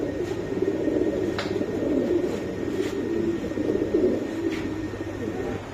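Pigeons at a market stall, including Granadino, Spanish pouter, Lahori and Shiraji breeds, coo softly and repeatedly over a steady background hum, with a few faint chirps and bird calls in between.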